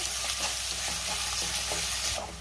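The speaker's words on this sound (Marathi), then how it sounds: "आता आपण कांदा घालूया, त्यातच कढीपत्ता घालायचा आहे आणि कांदा आपण 2 मिनिटं चांगला परतून घेऊया।" Chopped onion and curry leaves sauté in hot oil in a pan for a potato dry bhaji, a steady close sizzle with rhythmic stirring scrapes and no talking.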